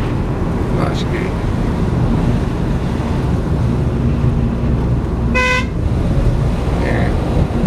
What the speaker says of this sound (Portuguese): Agora já posso dar uma buzina dela.